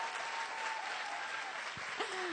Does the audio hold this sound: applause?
yes